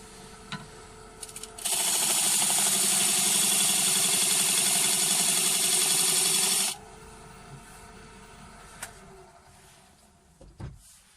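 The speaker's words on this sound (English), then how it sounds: "I will cut the first layer of the plywood." A lathe cuts through a layer of plywood for a homemade disc sander, a loud continuous grinding rasp lasting about five seconds that stops abruptly, with faint workshop noise before and after.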